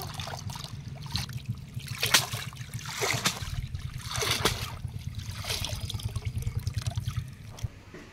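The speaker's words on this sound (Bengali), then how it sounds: "পুকুরের জলে ভালো করে ধুয়ে নেব।" Water splashes and trickles as cut pieces of fita (sitepati) fish are rinsed by hand in pond water, with repeated close sloshing strokes in an irregular rhythm.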